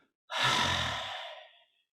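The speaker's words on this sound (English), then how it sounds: "Breathe out completely." A single long, complete exhalation during a breathing exercise, close and breathy, starting abruptly and tapering off over about a second and a half, alone in silence.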